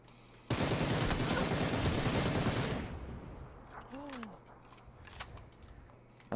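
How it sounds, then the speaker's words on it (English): Sustained burst of automatic gunfire in a video game, loud and dense for about two seconds before cutting off, followed by quieter ambient game sounds and a few faint later shots. "You're getting shot from somewhere else."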